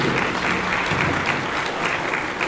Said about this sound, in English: Let's give Tom another round of applause.